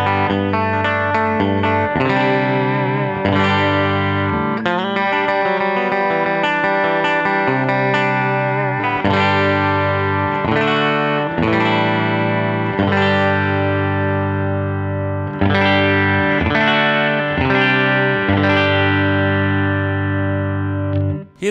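An electric guitar on its bridge pickup plays chords and riffs through a 1965 Blackface Princeton tube amp, a bright, slightly driven tone with ringing sustained notes and rhythmic strums, alone and without talk.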